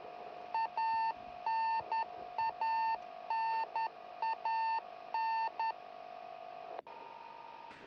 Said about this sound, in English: The beeping sound you hear is a radio beacon on the Soyuz spacecraft